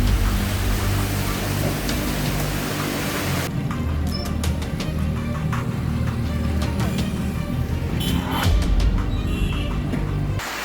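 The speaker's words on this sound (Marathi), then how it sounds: "वादळी वाऱ्यासह जोरदार पाऊस सुरू झालेला आहे।" Heavy pre-monsoon rain driven by strong wind in Vaibhavwadi taluka, a steady loud broadband roar with low rumbling gusts that persists throughout, slightly intensifying near the end.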